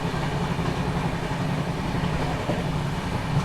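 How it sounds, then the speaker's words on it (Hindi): Prayagraj Bikaner Express rolling along the rails at around 110 km/h, a steady continuous rumble and rattle of wheels and carriage, close and even throughout with no talk. "अपनी ट्रेन ने भी यहाँ पे भागना शुरू कर दिया है, देख लीजिए"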